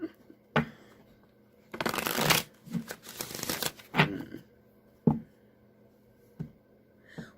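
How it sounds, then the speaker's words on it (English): Tarot cards are shuffled close by: a few soft taps, then a dense riffling burst lasting a couple of seconds, followed by scattered snaps and taps as the deck settles. "One more shuffle, because that was like the instruction card."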